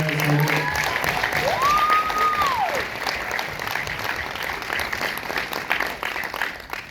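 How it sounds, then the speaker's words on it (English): An audience claps for cast members at a Q&A, steady applause with a whistle rising through it early on, tapering gradually across several seconds. "round of applause for these guys once again"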